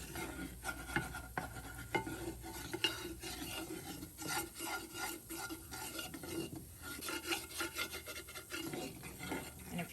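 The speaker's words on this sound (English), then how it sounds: "I take the oil and just keep going around it like this." Oil being spread around the inside of a La Chamba clay pot, producing continuous rasping, rubbing scrapes in a steady circular rhythm, close and moderately loud, with no talking.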